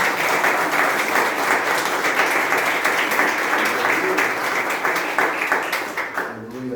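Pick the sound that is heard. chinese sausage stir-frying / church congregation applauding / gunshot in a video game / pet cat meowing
church congregation applauding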